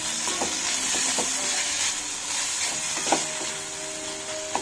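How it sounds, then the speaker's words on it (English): Tomato frying in a pan for mozzarella cheese toast, a steady close sizzle with occasional light utensil clicks against the pan. "Just fry it"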